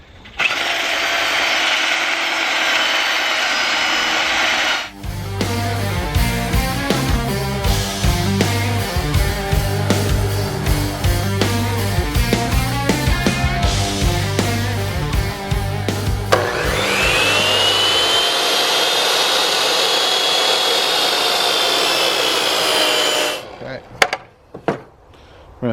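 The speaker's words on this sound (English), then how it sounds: "Alright, so I have the belt sander. I have medium grit" Belt sander with medium grit sanding wood for a heavy-duty mailbox build, a loud steady motor roar with a gritty rhythmic scraping stretch in the middle, then continuing alone before switching off.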